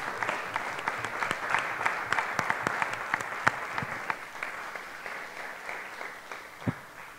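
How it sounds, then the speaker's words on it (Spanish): Audience applause fills a presentation hall after an urban coexistence project talk, a steady wash of many hands clapping with scattered sharper claps standing out, sustained for several seconds at moderate loudness. "para ellos dos tiene que ser el aplausote más grande"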